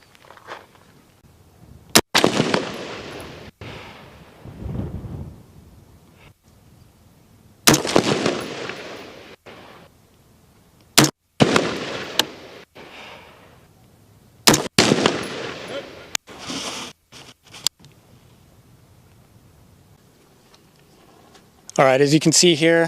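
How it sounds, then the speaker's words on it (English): A scoped rifle fires at a paper target on a shooting range, several sharp, loud cracks spaced seconds apart, each fading quickly, with someone talking between the shots. "we just shot 4 rounds"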